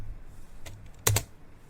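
A few computer keyboard keystrokes typing a command into a Windows 11 prompt: scattered soft clicks, then a louder pair of quick key presses near the end, close and alone with no talk.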